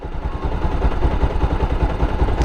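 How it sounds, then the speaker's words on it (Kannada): A second-hand motorcycle engine idles steadily at close range, a low, even, throbbing rumble with a light mechanical clatter through the whole stretch and no voices. "ಫಸ್ಟ್ ಬಂದು ಇಂಜಿನ್ ಸೌಂಡ್ ಚೆಕ್ ಮಾಡಿ,"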